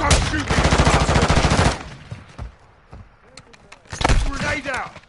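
Loud, rapid automatic gunfire bursts in a shooter video game, a sustained volley at the start and another near the end, with shouted voices and scattered shots between.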